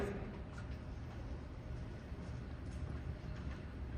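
A train sound effect plays during a school stage production, a faint, steady low rumble with light rhythmic clatter and no clear voices.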